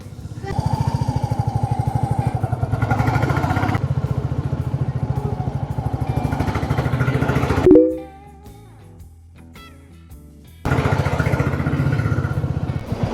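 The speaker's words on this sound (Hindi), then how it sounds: "इतने टाइम से बिल्कुल खाली रोड पे बाइक चला रहा हूँ ना" A motorcycle rides along an empty mountain road in Jibhi, Himachal, its engine droning steadily and close. It drops away into a quieter lull for a few seconds before the engine's rumble resumes at full strength.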